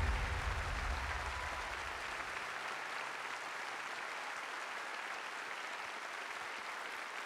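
A live audience at the Confederation Centre of the Arts in Charlottetown applauding, dense sustained clapping filling the hall throughout, with low hall rumble early on.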